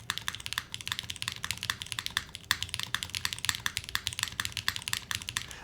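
Typing on the alpha keys of an all-glass mechanical keyboard: a quick, steady run of crisp, close keystrokes with bright clacky tops, continuous for several seconds with no talking.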